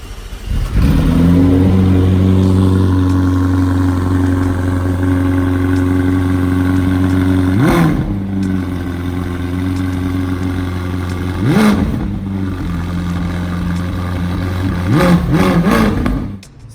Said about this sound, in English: Just hold down the brake and press this start button, and you'll hear this thing.